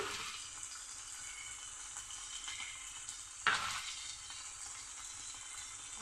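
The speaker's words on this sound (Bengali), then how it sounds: "আর হলুদ গুঁড়ো দিয়ে আবার কিছুটা নেড়ে দেবো" Snake gourd curry frying in a pan, a steady close sizzle with one sharp scrape or clink of the spoon midway, no talking.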